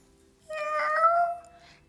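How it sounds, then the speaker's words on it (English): A single drawn-out cat meow, clear and close, rising then falling over about a second, with quiet before and after. "Meow, she replied, stretching."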